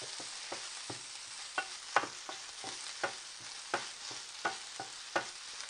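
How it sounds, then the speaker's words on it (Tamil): Washed, squeezed drumstick leaves sauté in hot oil under a soft, steady sizzle, while a spatula taps and scrapes the pan in a regular rhythm of sharp knocks. "கீரை நல்லா கழுவி பிழிஞ்சு வச்சுருக்கோம் அதை போட்டு வதக்கலாம்"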